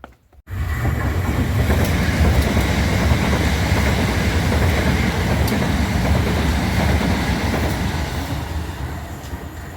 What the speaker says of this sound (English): But here goes my train at last.